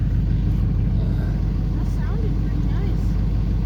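A Duramax diesel truck engine runs with a loud, steady low rumble at close range, while muffled talk comes through faintly underneath.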